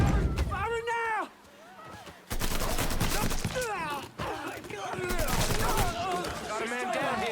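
Bursts of gunfire in the Mafia 3 video game, fast volleys mixed with shouted voices and game music, loud and dense throughout.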